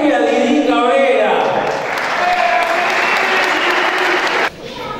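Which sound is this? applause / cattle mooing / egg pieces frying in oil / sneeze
applause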